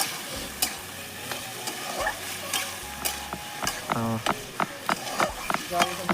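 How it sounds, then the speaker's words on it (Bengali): Potatoes and onions sautéing in a pan, a close sizzle broken by repeated spatula scrapes and clinks, with a low hum and some brief bubbling near the end. "সাথে সাথে কষিয়ে নিই, আলাদা ভাজতে পারলাম না"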